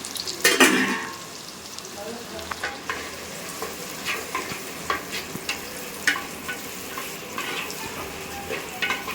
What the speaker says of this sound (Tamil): வெங்காயம் பார்த்திங்கன்னா நல்லா வதங்கணும் இது நல்லா வதங்க விடுவோம்